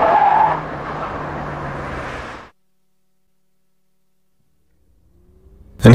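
A car slaloms through cones spaced about 25 metres apart at 80 km/h on a test track with Monroe shock absorbers. A loud close rush of tyres and engine runs for about two seconds, then cuts to silence before a sudden rising burst at the end.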